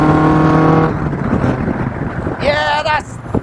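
A Duratec-powered Indy R car accelerates hard with a loud, rising engine note and a rapid upshift, wind buffeting the microphone while the driver talks over it.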